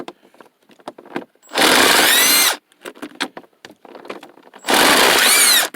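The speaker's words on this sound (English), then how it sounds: "this is a lot faster with a drill" A power drill whirs in two loud bursts of about a second each, driving screws while replacing the shift indicator on a 1990 Pontiac Bonneville, separated by quiet clicks and handling noises.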